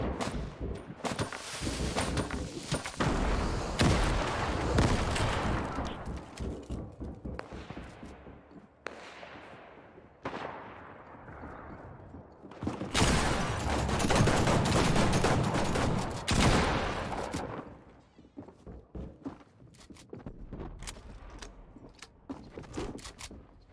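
A new automatic sniper rifle firing in the Fortnite video game, repeated loud shots in rapid bursts and volleys with short pauses between them, sustained across about twenty seconds, no talking.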